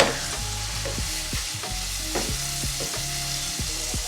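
Lumpia filling stirred in a frying pan: steady sizzle with repeated scraping and knocking strokes of a utensil, close and continuous, with no talk.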